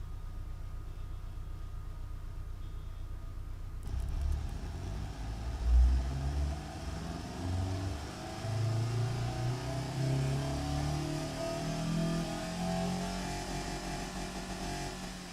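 A tiny four-cylinder car engine in the Automation car-company tycoon game cranks and catches, then revs and idles with a buzzing, rising and falling drone that continues loud and steady, without talk.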